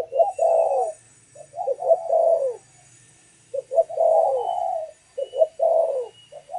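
A spotted dove decoy bird in breeding condition coos close by, repeating soft rolling phrases in bursts separated by brief silences.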